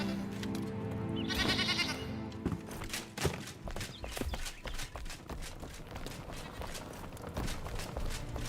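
Goats bleat in the survival game Enshrouded, a drawn-out wavering call early on, followed by a steady run of clicking, clopping hoof-like steps at moderate distance with no speech.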